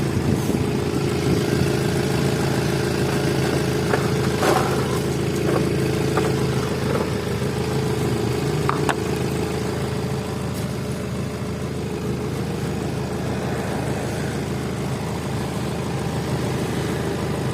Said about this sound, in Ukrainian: Двигун працює рівно.